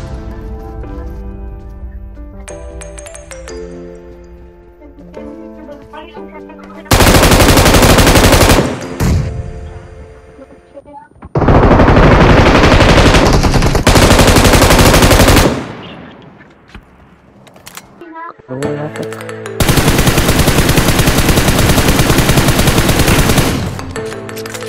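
Sustained machine-gun bursts from a squad firefight in a battle royale game, three long loud volleys of rapid automatic fire separated by quieter stretches of lighter in-game sound.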